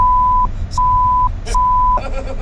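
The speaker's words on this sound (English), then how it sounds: "You didn't understand any of that because that was all beeped" A censor bleep covers a name in a radio-style second-date phone segment: three steady, piercing tones of about half a second each, separated by short gaps and followed by muffled noise.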